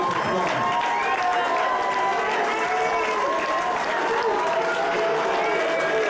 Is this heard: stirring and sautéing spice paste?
no